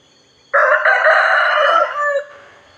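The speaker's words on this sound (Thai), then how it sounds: "เสียงไก่ขันเจือแจ้วบอกสัญญาณว่าเช้าแล้ว" At Wat Pong Chai temple in Chae Hom, Lampang, a rooster lets out one loud, close morning crow that rises sharply, holds for over a second, then trails off into a quiet background.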